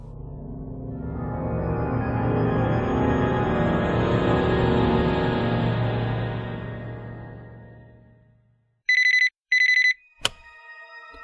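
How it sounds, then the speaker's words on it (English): A telephone rings in two sharp, loud electronic double bursts near the end, following a long swelling rumble that fades into silence. "Miss Peterson, would you pass me my phone?"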